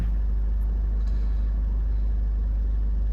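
A Ford Kuga with an AWD overheating fault drives along, giving a heavy, steady low rumble of engine and road noise that dominates throughout, with no talking.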